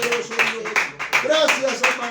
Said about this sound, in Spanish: Vamos a un aplauso fuerte, Señor.